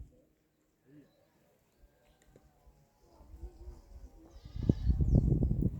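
Goats on a dry-season farm in Siaya bleat from a distance at first, then grow louder and closer with several overlapping calls toward the end.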